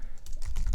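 Fast typing on a computer keyboard, a quick patter of close, soft key clicks that runs for under a second with no voice over it.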